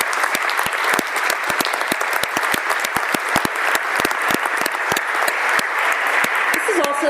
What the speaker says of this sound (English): could I ask the audience to give one more round of applause for all of our recipients?